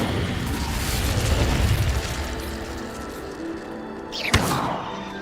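An Incendio fire spell cast in Hogwarts Legacy: a sustained whooshing burst of flame that fades, followed by a single sharp impact pop near the end.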